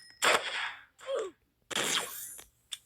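Gunshots in a video game, a few separate sharp bursts with ringing tails and short gaps between them, fairly close and loud.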